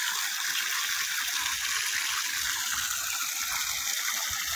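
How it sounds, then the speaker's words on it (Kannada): Borewell water gushes continuously onto farmland near Ooty road, a loud, steady rushing flow with no breaks. "ಇದು ನಿರಂತರವಾಗಿ ಇದೇ ರೀತಿ ನೀರು ರನ್ನಿಂಗಲ್ಲಿರುತ್ತೆ"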